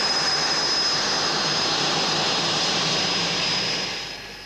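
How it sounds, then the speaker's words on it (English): Jet training aircraft taxiing out at an airfield during a 1980s test pilot course, a loud steady turbine roar and whine that fades toward the end, with no talk. "As Jim taxis out, Merkel returns for a touch and go."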